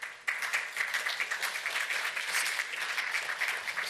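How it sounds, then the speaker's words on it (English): An audience at an intellectual property conference applauds to welcome a speaker, dense even clapping from a hall crowd, moderately loud and steady throughout. "A round of applause,"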